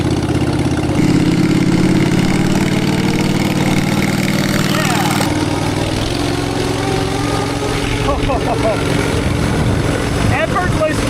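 A Predator 670 V-twin engine fitted to a 4WD go kart runs loudly and steadily close by, with its idle shifting in pitch a couple of times over eleven seconds.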